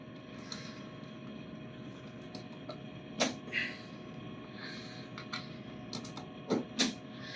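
Cable connectors click into a BestCode CPU board: a few sharp, faint snaps, one alone and then a quick pair close together, over a soft steady room hum.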